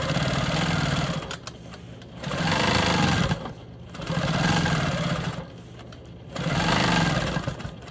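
Sewing machine quilting the last triangle piece of a star quilt block, three bursts of fast, even motor whir and needle chatter separated by short quieter pauses, close and loud.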